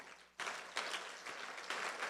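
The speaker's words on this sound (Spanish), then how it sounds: "Dale un aplauso al Señor." A church congregation claps for the Lord during a worship service, a dense, steady wash of many hands that starts abruptly and swells in waves, fairly close and filling the room without speech over it.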